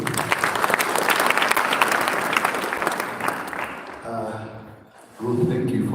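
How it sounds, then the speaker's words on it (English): Mourners at a memorial service clap loudly and steadily for about four seconds, then the applause fades and a voice begins speaking over the thinning crowd. "A louder clap for Auntie Ruth."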